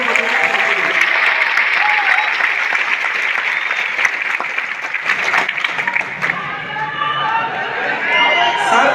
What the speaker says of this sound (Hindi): एक बार जोरदार तालियां सुदर्शन सर।